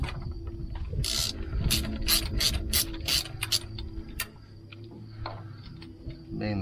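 A ratchet wrench loosens 15mm bolts on the hydraulic pump cover of a John Deere 2030 tractor, with bursts of quick close clicking and ticking over a low mechanical background hum.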